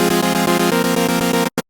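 Synth saw wave layered with added white noise for a melodic techno sound, a dense bright hissing tone pulsing in a fast steady rhythm for about a second and a half before stopping abruptly, with no voice.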